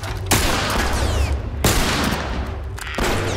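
Gunshots ring out in the video game The Last of Us: three loud, sharp blasts a little over a second apart, each trailing into a long, noisy echo, with no one talking.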